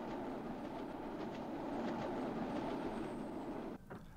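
A Tyne and Wear Metro light rail train running on track, a loud continuous rumble with wheel clatter that holds steady before dropping off abruptly near the end.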